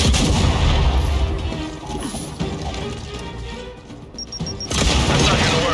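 Frag grenade explosions and combat in the video game Gears 5, a dense, loud, continuous rumble of booms and gunfire filling the whole clip without pause, with no speech.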